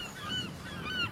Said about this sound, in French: L'armada de goélands derrière.